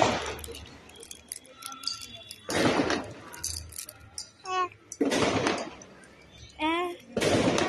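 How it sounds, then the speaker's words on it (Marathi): Firecrackers burst outdoors in a few loud, sharp cracks spread across the moments, mixed with crackling and whistling pops while people talk and call out nearby. "फटाका फुटतात त्याच्याकडे बघतोय."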